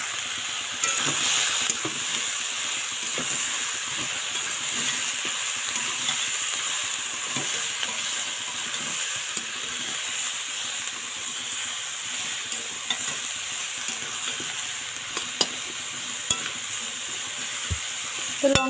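Chili being sautéed and stirred in a cooking pan with a little water, giving a steady, continuous sizzle and hiss with occasional stirring scrapes throughout, no voices.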